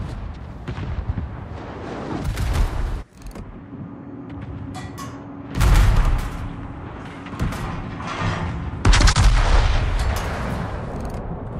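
Battleship main guns fire in World of Warships, with heavy booming salvos in several bursts and rumbling pauses between them, loud and close.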